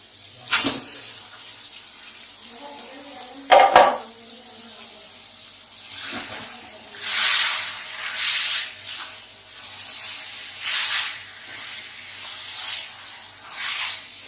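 Sizzling and hissing from minced beef frying in a pan, rising in waves, with a couple of sharp clatters early on.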